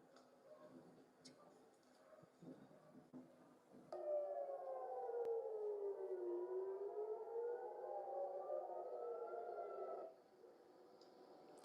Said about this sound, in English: Gonna hear that siren thing.